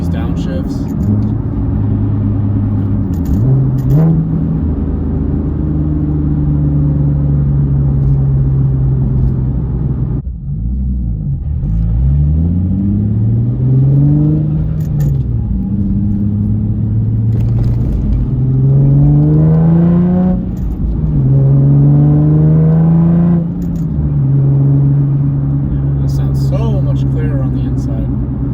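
A Nissan Z fitted with a new Tomei exhaust, heard from inside the cabin with windows up: a deep droning engine that dips and blips through repeated downshifts while someone talks over it.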